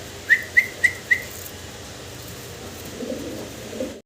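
Four short, evenly spaced whistle-like calls from pigeons ring out near the start, then only low background noise remains.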